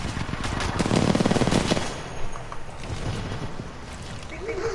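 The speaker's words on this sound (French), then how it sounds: "Là je vais le montrer à la mitraillette." A machine gun fires in the video game Titanfall 2, a dense rapid burst for about two seconds, followed by quieter game noise and scattered lighter shots.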